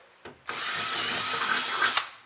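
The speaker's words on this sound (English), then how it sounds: "So we got to continue to drill until they're finally out all together." A power drill drilling out rivets inside a Scion xB whirs steadily for about two seconds after a couple of short bursts, close and fairly loud, with no talking.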